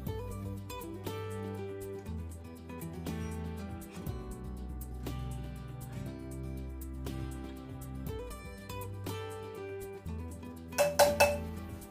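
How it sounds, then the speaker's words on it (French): A fork mashes quiche filling made with Swiss chard and a pinch of turmeric in a dish, giving soft scraping and light clinks under steady background music, with a few sharper taps near the end. "on va venir écraser à la fourchette pour commencer"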